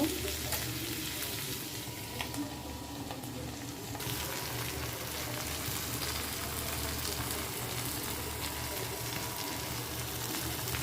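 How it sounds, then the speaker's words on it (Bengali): Potatoes fry in a pan with a steady, soft sizzle that runs evenly for about eleven seconds, fairly quiet and close, with no talk over it. "আলুগুলো আমার ভাজা হয়ে গেছে আর একটু ভেজে নিব"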